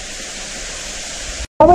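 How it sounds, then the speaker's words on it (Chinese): A waterfall inside a cave, a steady broadband rushing roar at fairly close range that cuts out abruptly near the end before a short burst of other sound. "还有瀑布"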